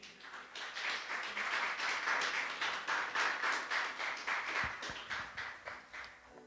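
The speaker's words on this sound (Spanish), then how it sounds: "Dale un aplauso, por favor." Church congregation applauding a preacher's sermon, a sustained wash of many hands clapping at steady loudness that swells and pulses throughout, then begins tapering at the end.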